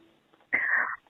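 One short, sharp sneeze, close and loud, bursting out of near silence and fading quickly.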